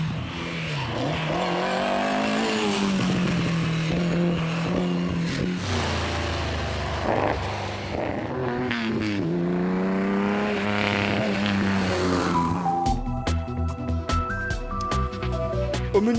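Historic race cars, among them an AC Cobra, thunder around a circuit. Engines rev and swell in pitch as several cars pass close by, loud and continuous, with a rougher burst of revving near the end.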